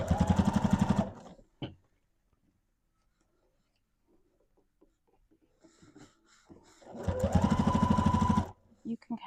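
A sewing machine stitches witch hat fabric in two rapid, even bursts of needle clatter, close and loud, with a long pause between them where fabric is handled and a voice talks softly.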